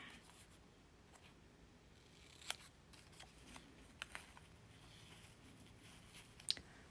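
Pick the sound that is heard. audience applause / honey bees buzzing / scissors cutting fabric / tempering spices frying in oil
scissors cutting fabric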